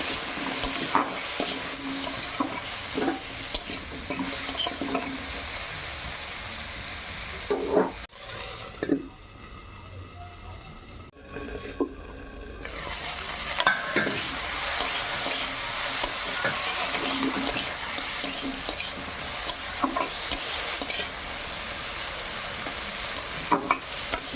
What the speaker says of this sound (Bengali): আগে ভালো করে ভেড়িটা ভেজে নেব।